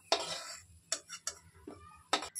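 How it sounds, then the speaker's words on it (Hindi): Fried pieces clink and scrape as they are moved off a kadai onto another plate while making sooji halwa, a handful of short, separate utensil knocks with quiet gaps between them. "चलिए अब हम इनको दूसरे प्लेट पे निकाल लेते हैं।"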